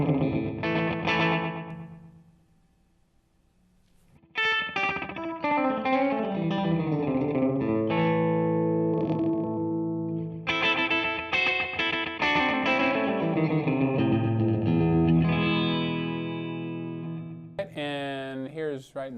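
Guitar played through a JHS Pink Panther delay pedal on a slapback setting, with chords and single notes followed by quick short repeats, sustained and loud, with a brief quiet gap early on.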